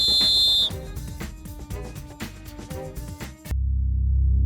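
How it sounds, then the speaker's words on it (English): A referee's final whistle at a football match, a shrill, sustained high blast at the start, followed by busy percussive sounds and then a low rumble. "when the referee blew the final whistle"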